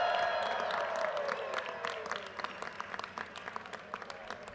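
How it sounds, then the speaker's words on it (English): Audience applause at a business school graduation ceremony, a broad wash of clapping and some cheering that is loudest at the start and gradually thins out into scattered claps. "Let's give you all a huge round of applause one more time."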